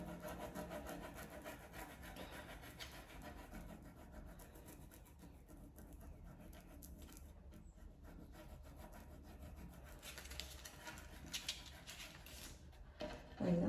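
Steady wooden rubbing and scraping from a small wooden spatula pressed hard over a transfer on furniture, a continuous close scratchy friction that persists throughout, with a few sharper knocks near the end.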